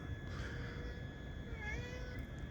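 An old cat gives a soft, drawn-out meow late in the clip, faint and close, over a steady low background rumble.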